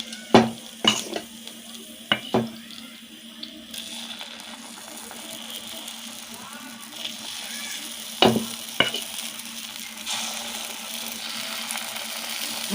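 Mini appam batter meets a hot griddle with a soft sizzle, broken by sharp metallic clacks of a ladle and pan handling near the start and again later.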